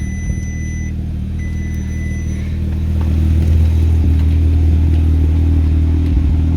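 A car engine rumbles steadily up close, then the revs rise and hold at a louder, fuller drone, with faint clatter underneath.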